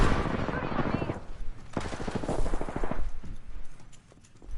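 Gunfire sounds in a shooter video game, with bursts of rapid automatic shots that come and go over about four seconds. Game effects and voices are mixed in.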